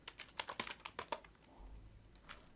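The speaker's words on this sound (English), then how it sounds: "So for that I'm just going to type whoami/priv command like this." Quick bursts of clicking keystrokes on a computer keyboard while a short command is typed, about a dozen crisp taps in an uneven rhythm, then a brief quiet pause and one last keypress.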